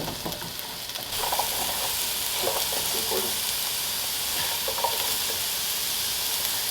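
Potatoes frying in a pan over medium-high heat in a home kitchen, giving a steady, close sizzle that thickens after the first second, with faint stirring clicks and scrapes scattered through it and no talking.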